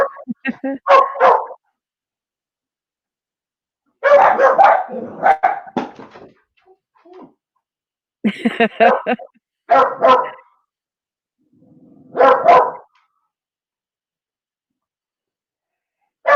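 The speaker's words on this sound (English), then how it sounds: "Oh, they're just a barking away." Dogs bark in separate clusters with silent gaps between them, a few sharp barks and yips each time, fairly close and loud.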